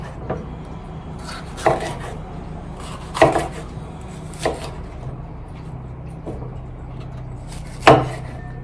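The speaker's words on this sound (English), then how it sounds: "I'll go ahead and cut my green pepper." A knife chops a green pepper on a cutting board in a home kitchen, with about five sharp, separate thuds spaced unevenly over a quiet background.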